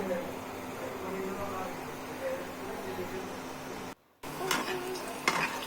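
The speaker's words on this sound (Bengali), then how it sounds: "দেখতে পাচ্ছেন ম্যারিনেট করতে করতে আমাদের আলুগুলো ভাজা হয়ে গিয়েছে" Potatoes frying in a pan give a quiet, steady sizzle under a soft hiss of background noise, with a brief dropout and a couple of small clinks near the end.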